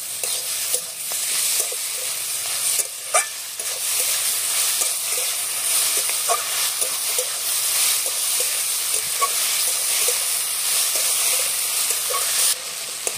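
Veg roll filling with tomato sauce and oregano stirred in a hot pan: a steady bright sizzle runs throughout, with light scrapes and taps of the spoon now and then, close and with no speech.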